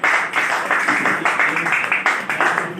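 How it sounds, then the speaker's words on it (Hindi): A crowd at a monthly company lucky draw ceremony claps for a winner, with loud, dense, rhythmic applause running continuously throughout. "D9734 तालियों के साथ स्वागत करेंगे।"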